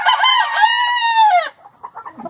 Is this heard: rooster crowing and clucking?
yes